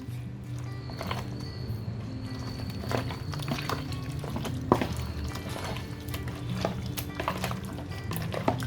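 Chicken pieces mixed with marinade spices for biryani in a bowl, with soft, close clattering and scraping knocks over a low background hum.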